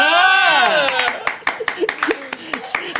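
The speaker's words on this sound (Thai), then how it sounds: "ปรบมือให้พี่โจ้ครับ" An audience claps for a host on a Thai talk show about life abroad, sharp hand claps breaking out in a scattered run after a burst of laughing and talking, with voices continuing underneath.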